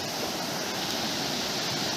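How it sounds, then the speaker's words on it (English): A forest waterfall near Mumbai pours steadily, a dense, even rush of falling water heard up close, with no voices over it. "from this point also water is coming"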